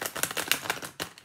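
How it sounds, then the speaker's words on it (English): Tarot cards shuffled by hand, a rapid series of crisp papery snaps and riffles in an uneven rhythm, close and alone. "I'll give them a little bit of an extra shuffle"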